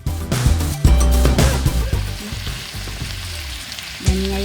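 Beef and broccoli stirred in a hot frying pan: a loud close sizzle with repeated scraping and clattering strokes of a utensil against the pan, fading slightly then flaring up again near the end, no speech.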